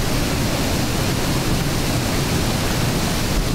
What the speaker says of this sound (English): So these waterfalls, very lively today, very lively.